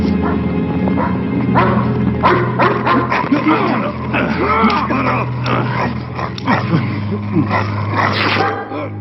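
A vaccinated dog barks repeatedly in short yaps and yips, close and fairly loud, over a steady low hum with some voices in the background.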